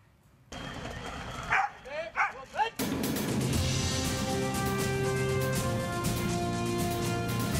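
Several sharp barks from police dogs in quick succession, fairly close, followed by a burst of loud music.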